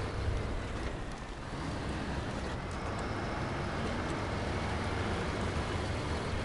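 Truck engine in the video game SnowRunner on a Red Canyon mod map: a steady, broad droning roar that stays fairly even throughout, heard alone without talk.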